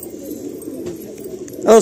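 Domestic breeder pigeons cooing softly and steadily at close range, a low murmuring drone that swells briefly louder near the end.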